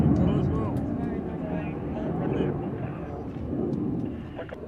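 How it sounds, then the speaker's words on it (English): German Tornado military jets on the runway during arrival days at an international air show, a broad, steady jet roar rising and falling at a distance, with talk heard over it. "Burning up the runway at Royal International 802 on the arrival days. It is the German Tornadoes."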